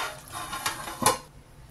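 Chicken gravy for a Lucknow-style chatkara curry is spooned out of a pan with a few faint metal clinks and a soft scrape, close by, in a quiet kitchen.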